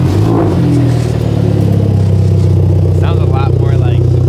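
Hyundai Genesis Coupe with an ISR race catback exhaust, test pipe and a slight downpipe exhaust leak, revving hard up close: a loud, droning engine note that climbs in pitch, with a voice talking over it.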